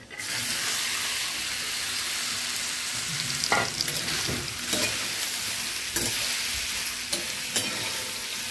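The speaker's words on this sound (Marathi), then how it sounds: "आपलं तेल चांगलं तापलेलं आहे, त्यामध्ये आपण हे मॅरिनेट केलेले हे कोबीचे तुकडे ना हे टाकायचे" Marinated cauliflower pieces drop into hot oil and fry with a loud, continuous sizzle, broken by several sharp clinks and stirring scrapes.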